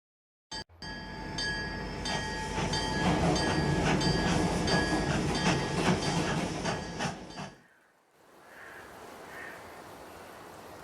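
A train in the video game Dark Tales: The Tell-Tale Heart, a loud rumbling run of rail clatter with tonal whistle-like lines that cuts off abruptly, leaving quieter ambience with faint caw-like calls.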